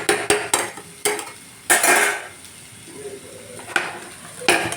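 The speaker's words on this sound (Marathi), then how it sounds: "छान टॉस करून घ्यायचं मित्रांनो, मिक्स करायचं छान" Hakka noodles tossed and mixed in a pan make several sharp clattering scrapes and metallic clanks in irregular bursts, with a light sizzle underneath between the strokes.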